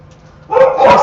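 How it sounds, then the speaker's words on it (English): Dogs bark in a backyard on a rainy day, a short loud burst of barking that starts halfway through and rises in strength, close by. "Hope you can hear them over my barking dogs."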